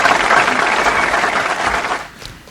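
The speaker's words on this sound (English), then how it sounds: "Let's give them a warm round of applause" Warm applause from an awards-event audience rolls on for about two seconds, then thins and fades as the clapping dies out.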